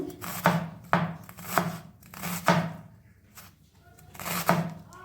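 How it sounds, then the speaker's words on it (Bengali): A knife slices onion thinly on a board in about five or six distinct crisp strokes, spaced roughly half a second to a second apart, close up with no voices. "পেঁয়াজটা কেটে নেব।"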